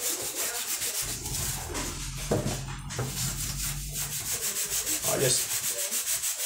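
A barbecue grill grate is scrubbed with a paste of baking soda, vinegar, salt and dish detergent, making steady, rhythmic, close rasping strokes throughout, with a brief spoken remark over the scrubbing.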